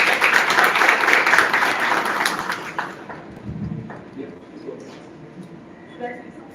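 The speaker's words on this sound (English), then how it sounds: "huge round of applause for Khushika" An audience at a design creators panel gives a loud round of applause that swells for about three seconds, then fades into scattered claps, shuffling and faint room noise.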